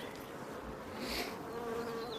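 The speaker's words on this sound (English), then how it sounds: "the bees are very calm" A calm honey bee colony hums during an open hive inspection, a continuous close buzz with a few individual bees flying past nearby.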